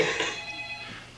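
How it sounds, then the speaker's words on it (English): A telephone rings alone indoors, a steady electronic trill holding for just over a second and slowly fading, with no talking over it. "That'll be the phone."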